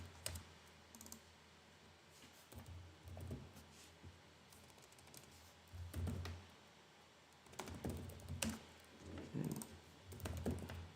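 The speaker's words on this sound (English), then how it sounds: "as I'm typing this" Quiet bursts of typing on a computer keyboard, with irregular clusters of soft key clicks separated by short pauses, faint and close.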